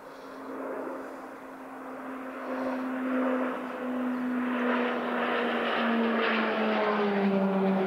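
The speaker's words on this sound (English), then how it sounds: "these PC-21s are used today in this impressive display" PC-21 turboprop aircraft flying in an air force display, a sustained engine drone with a tone sliding down as they pass, loud and continuous with no talk.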